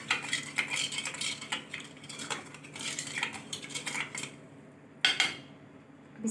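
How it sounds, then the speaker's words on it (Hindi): A metal spoon stirs sugar and kewra into water for Muharram sharbat, making repeated close clinks and scrapes against the vessel in an uneven rhythm, with no talking. "इसको अच्छे से घोल लेना है।"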